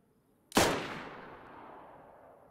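Single sharp scoped rifle shot in a video game, fired at long range, a loud crack followed by a long decaying echo trailing off over two seconds.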